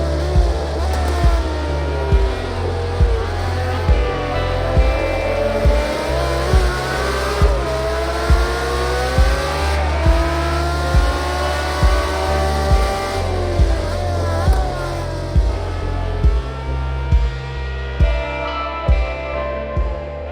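The 1988 Jaguar XJR-9 Le Mans-winning race car on a hard lap: a loud, sustained engine roar with pitch sweeping up and down through gear changes, and regular sharp pulses throughout, close and continuous for about twenty seconds.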